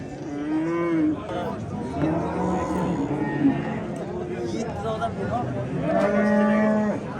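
Several cows moo repeatedly at the Uchkuprik cattle market, long drawn-out low calls from close by, with a few overlapping and a loud one at the end.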